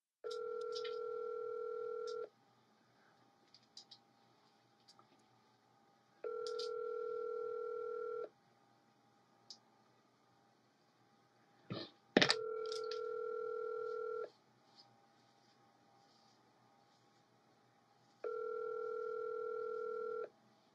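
Telephone ringback tone while calling someone, four evenly spaced two-second tone bursts separated by long silences, with a few faint clicks and one sharp loud knock near the middle.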